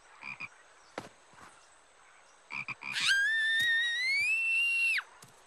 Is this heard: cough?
no